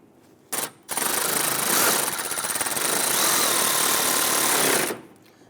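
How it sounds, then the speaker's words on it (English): A power screwdriver drives a forward-mounted headlight bracket screw on a 2008-2013 Infiniti G37, giving a steady, loud whirring buzz for about four seconds after a brief initial burst, then stopping abruptly. "Go ahead and get the forward mounted screw in as well."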